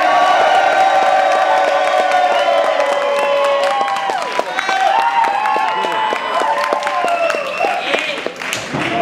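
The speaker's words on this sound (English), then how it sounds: "I want y'all to be honest and cheer hard." A loud crowd at a dance battle tournament cheers, whoops and applauds for the dancer Strobe, a dense roar of voices and clapping holding steady throughout with shouts rising above it.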